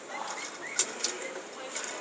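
A pigeon or dove coos softly in short low calls, faint and somewhat distant, with a couple of sharper bird chirps mixed into a quiet background.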